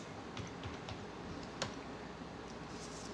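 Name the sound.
typing a command on a computer keyboard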